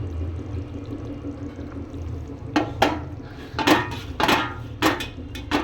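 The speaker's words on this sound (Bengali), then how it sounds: "মাছের তেলগুলো দিয়ে দিচ্ছি।" Leftover fish-frying oil going into a pan, with a low steady cooking background broken later by several sharp clinks and knocks of metal cookware in quick irregular succession.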